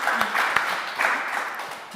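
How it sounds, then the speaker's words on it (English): An audience at a craft talk session gives a brief round of applause, a soft, steady patter of many hands clapping in a room, lasting about two seconds without speech. "Maybe if we can give everybody a round of applause, give each other a round of applause"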